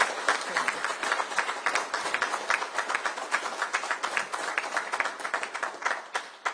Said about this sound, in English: Would you please give her a round of applause?